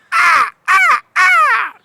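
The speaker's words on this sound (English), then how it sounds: "All right, crow." Three harsh, drawn-out crow caws, loud and close, each falling slightly in pitch, separated by short pauses, with no other sound around them.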